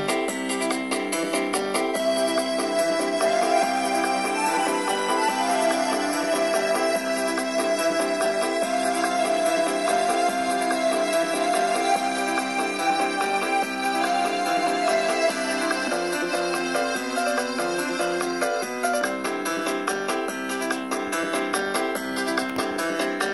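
String voice played on a keyboard app on a mobile phone, sustained layered chords and a held melody line, steady and fairly loud with no talking.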